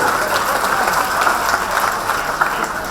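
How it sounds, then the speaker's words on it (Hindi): An audience claps for a student named Suraj at a farewell celebration, a dense, steady burst of applause from a crowd indoors, loud and continuous throughout with no talk over it. "वेरी गुड, ताली बजाओ"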